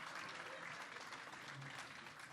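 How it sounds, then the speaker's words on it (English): A crowd applauds steadily throughout, dense clapping filling the room at a fairly even level with no pauses. "So can we give Lance a great round of applause?"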